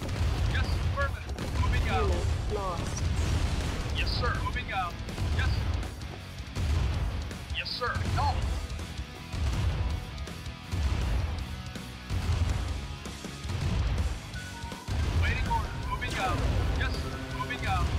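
Explosions and crashing blasts from a turret being attacked and destroyed in the strategy game Command & Conquer: Tiberian Dawn, booming repeatedly through the clip beneath continuous talking.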